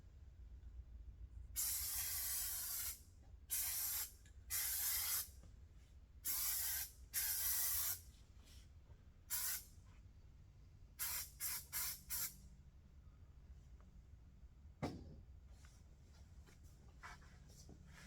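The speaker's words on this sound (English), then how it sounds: "So let me spray a couple of sides of this." Short bursts of spray adhesive hiss onto fabric laid over cardboard for 1936 Ford interior trim, about a dozen close, loud blasts of varying length separated by quiet pauses, with no talking.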